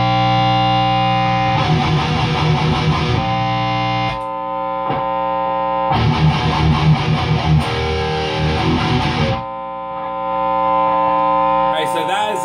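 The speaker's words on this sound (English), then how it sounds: "that is the static right now that the suppressor was supposed to cut off" Palm-muted electric guitar buzzes with static and hum through an MXR Smart Gate noise suppressor that fails to cut it off, two dense distorted bursts of chugging separated by a lingering steady hum, loud and alone.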